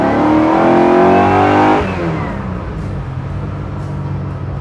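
1964 Chevrolet Biscayne with a 632 big-block V8 and Tremec five-speed pulling hard in second gear, a loud rising engine roar that climbs for about two seconds, then drops off to a lower, steady rumble.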